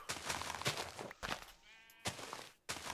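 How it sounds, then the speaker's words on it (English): Sheep bleating in a video game, a few short, close bleats separated by brief pauses, loud and alone with no voices. "Oh, it's a beautiful sheep"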